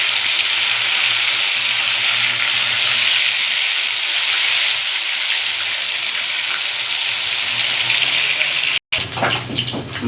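Fish frying in hot oil in a wok gives a loud, continuous, close sizzling hiss that holds steady for several seconds before a short break and a rougher spatter.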